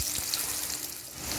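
Cut potatoes fry in hot oil spiced with dried red chilli, whole cumin and bay leaf, a soft, even sizzle that holds steady throughout.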